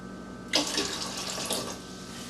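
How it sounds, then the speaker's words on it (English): A short splash of vinegar poured into pressure-canner water, starting abruptly and trickling for under two seconds, close and fairly clear. "Always put a little splash of vinegar in your canning water"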